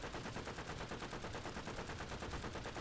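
Rapid gunfire in the War Thunder video game, a steady run of evenly spaced shots that fills the whole clip, loud and close with no talking over it.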